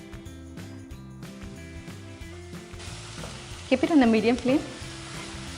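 Finely chopped onion hits hot oil in a heated pan on a medium flame, a broad sizzle swelling up partway through, with a spoken voice and steady background music running underneath.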